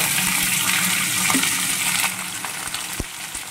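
Dried red chillies and panch phoron frying in hot oil for a Bengali pui shaak ghonto make a steady, close, bright sizzle, with a soft knock near the end and no voices.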